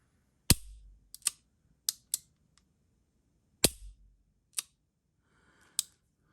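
A revolver's trigger is dry fired, giving several sharp, close snaps and clicks spaced irregularly apart, with a few softer mechanical ticks between them and no talking.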